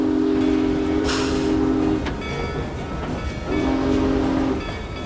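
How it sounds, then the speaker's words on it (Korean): A sea train running on rails across the night sea, with a rolling rail rumble, sustained steam-whistle-like tones early and again near the end, and a hissing burst in between; no voices. "몸을 실은 해상 열차가 밤바다 위를 달리고 있었다."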